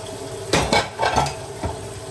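Dishes and cutlery clatter as they are washed and put away, with a few sharp clinks and knocks in quick succession over quiet kitchen background.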